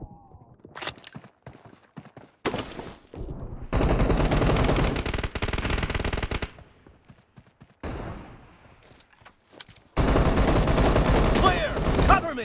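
In a team deathmatch round of a shooting video game, loud bursts of automatic gunfire come in long sustained volleys separated by brief quieter gaps, with a few short single shots early on.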